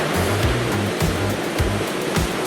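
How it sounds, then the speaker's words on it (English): Sea waves surge around a Joysway Fishing Surfer 3251 RC fishing boat running at full power, a loud steady wash of rushing water with rhythmic low thumps, close and continuous. "cutting through 1 meter waves with ease"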